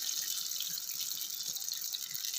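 Water pours steadily into a pot of rice, a continuous bright splashing stream close by.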